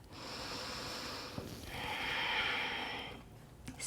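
Slow, steady yoga breathing close to the mic, with a long audible inhale followed by a broader, airy exhale and a softer breath trailing off at the end.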